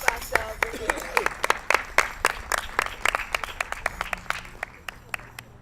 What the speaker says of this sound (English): So let's give ourselves a hand.